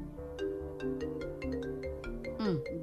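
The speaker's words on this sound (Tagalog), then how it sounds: "Bagting imong cellphone." A cellphone ringtone plays as a steady melodic tune of repeating tones indoors, moderately loud with no talk over it, ending in a brief sweeping flourish.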